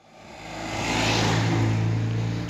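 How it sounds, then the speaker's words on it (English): A loud car passes close by on a road near the Pennine Way, its engine roar swelling and holding steady across the moment with no talk over it. "That car was noisy."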